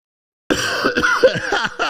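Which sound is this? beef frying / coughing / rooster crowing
coughing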